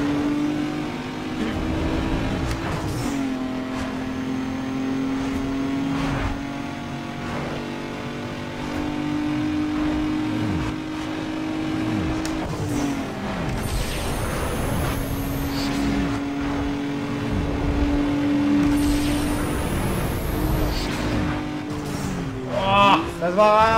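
Race cars in the video game Need for Speed Underground 2 rev and accelerate steadily with repeated gear-shift drops, engine drone continuous and loud over several passes, with faint game effects near the end.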